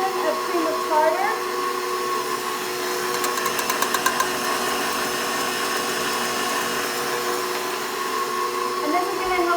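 A steady electric whir from a mixer beating egg whites on medium speed, running continuously at even loudness, with a voice speaking faintly in the background.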